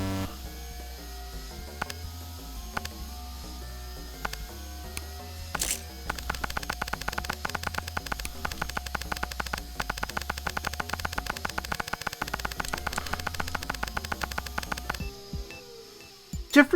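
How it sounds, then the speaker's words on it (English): A giant vacuum in a video game, running as a loud mechanical buzz that switches to a rapid rattling, chattering drone midway before cutting out near the end, with no voices. "Are you a fucking giant vacuum now?"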